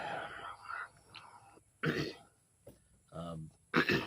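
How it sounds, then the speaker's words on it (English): A few rough throat-clearing bursts spaced apart, close and fairly quiet, from a man who has been clearing his throat for two days, with bits of low talk in between. "Clear my throat for 2 days."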